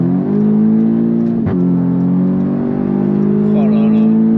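An Audi S3 ABT 400 engine revs steadily under load from inside the car, with a brief dip around a late gear change and then a renewed climb, loud and droning throughout.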